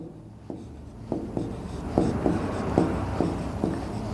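Chalk or marker writes on a board during a maths lesson, a series of close, short scratchy strokes and taps in an irregular rhythm over a quiet room background.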